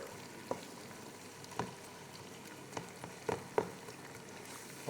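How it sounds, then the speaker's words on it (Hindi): Minced meat (keema) browning in a pan gives a faint, steady sizzle, broken by a few soft clicks and taps from stirring. "कीमे को भून लेंगे अच्छे से।"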